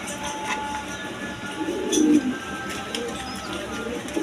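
A big Indian Kaldom pigeon gives a single low, throaty coo near the middle of the clip against a steady background hum.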